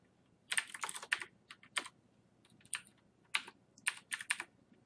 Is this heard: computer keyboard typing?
yes